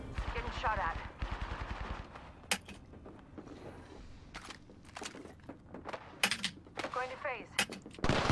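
Video game gunfire, with sharp single shots and short bursts scattered among quieter stretches, and a voice talking at the start.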